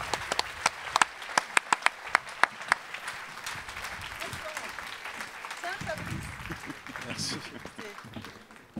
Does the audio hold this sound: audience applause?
yes